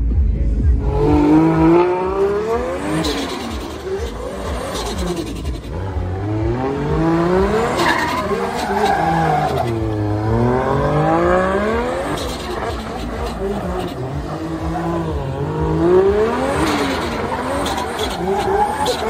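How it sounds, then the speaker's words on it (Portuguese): A Nissan 350Z drift car warming its tyres at a drift event: a loud engine revs up and down in repeated sweeping surges, with tyre squeal and skidding, sustained throughout. "Vai fazer o aquecimento dos pneus com 350Z dele."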